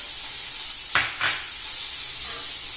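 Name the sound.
butter melting and being whisked into beurre blanc sauce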